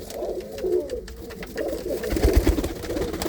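A pigeon coos in low, rolling phrases close by, the soft throaty calls rising and falling over a faint background of other small noises, with no talk.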